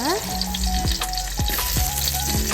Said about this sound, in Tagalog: nagisa-gisa po tayo ngayon ng ating mga spice